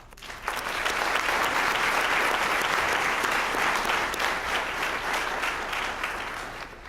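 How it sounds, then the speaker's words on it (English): An audience at a high school graduation celebration gives a full round of applause, dense and steady clapping that swells quickly and holds for several seconds. "Will you join me in congratulating them with a round of applause?"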